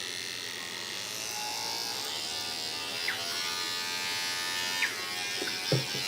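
Electric beard trimmer motor running steadily with a continuous high buzz close up, a few faint clicks and taps over the drone.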